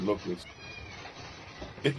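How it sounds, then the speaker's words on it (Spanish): Two cats meow in short bursts near the start and again at the end, while people talk and react around them. "¿Cuántos gatos hay, tío? Son dos, ¿no?"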